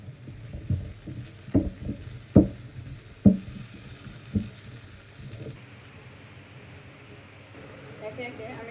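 Sliced green chilies and chopped onion frying with pangas fish in a pan, a steady hiss with a few sharp clacks of a utensil near the start, then the sizzle carrying on alone.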